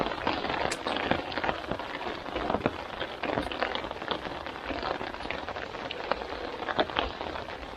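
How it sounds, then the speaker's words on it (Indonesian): Light drizzle falls steadily outdoors on Mount Sumbing along the Bowongso trail, a constant soft patter with scattered sharper drop hits and no talking. "ini gerimis ya"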